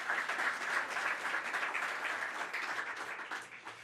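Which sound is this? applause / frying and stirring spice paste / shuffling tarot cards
applause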